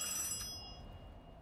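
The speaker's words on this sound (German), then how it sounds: "Telefon hier." A telephone rings in the World War I game Ad Infinitum: a brief burst of bright, high bell-like ringing at the start that quickly fades beneath a steady low ambient rumble.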